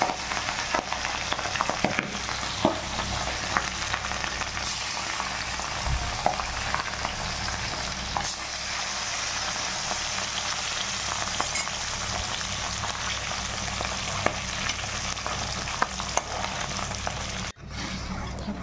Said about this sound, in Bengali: প্রথমে তেল দিয়ে দিলাম, মাছগুলো একটু সাঁতলে নিই।